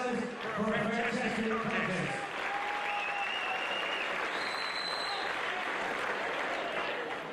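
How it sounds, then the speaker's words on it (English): Arena crowd applauding and cheering after a combat-sports fight, broad sustained clapping under an announcer's voice at the start, then continuing alone with a few whistles ringing out above it. "a big round of applause to both fighters for a fantastic"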